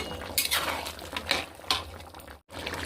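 Fried pakoras stirred into chili chicken gravy in a pan, with close clinks and scrapes of a spoon against metal over a low bubbling simmer, then a brief cut to silence.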